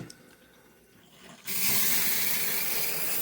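Water from a shower head bursts on partway through and runs as a steady, loud hiss, after a quieter stretch of room noise.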